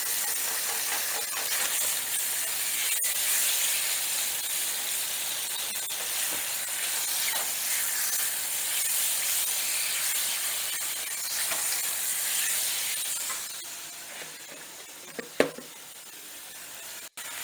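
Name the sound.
peppers and steak meat sizzling in a pan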